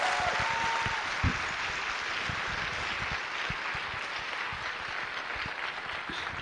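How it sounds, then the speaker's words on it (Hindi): Applause from a seated audience at a talk by former IAS officers Priyamvad Kumar and Sunita Kumari, a continuous even clatter of many hands heard from some distance, holding steady throughout. "give a good applause to her"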